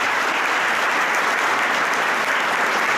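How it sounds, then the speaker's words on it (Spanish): An audience applauding at a campaign launch event, loud continuous clapping from a large crowd, dense and even from start to finish. "Por eso quiero pedirles para todos ellos un fuerte aplauso."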